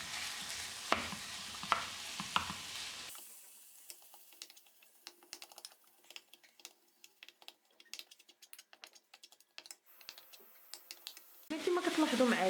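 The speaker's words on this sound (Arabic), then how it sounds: "غادي نخلط هاد المكونات ديالي بشكل جيد" Savory pastry filling of spices such as turmeric and salt being stirred together in a pan, with quiet irregular scraping and tapping taps, faint sizzling, and a louder burst at the end; talking can be heard at the start.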